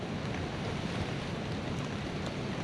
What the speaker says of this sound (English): The wind's blowing a little bit, isn't it?